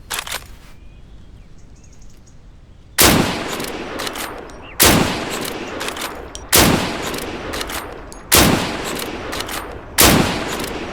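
Mosin bolt-action rifle fired in the shooter game Deadside: five loud, sharp shots spaced roughly 1.5 to 2 seconds apart, each with a short fading tail, after a quiet stretch of faint background ambience.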